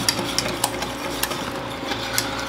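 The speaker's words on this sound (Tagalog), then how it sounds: "Pag nalagay ko na siya lahat, pwede ko na siyang i-mix." Pancake batter with added cooking oil being stirred in a bowl, a continuous soft scraping swirl punctuated by light clinks of the utensil against the sides, close and steady with no talking.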